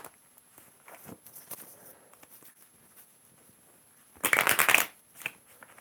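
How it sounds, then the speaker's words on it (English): A deck of tarot cards shuffled forcefully: faint scattered card taps and slides, then a loud, dense riffle burst near the end followed by a brief softer flutter. "Just like forcefully shuffle these right now."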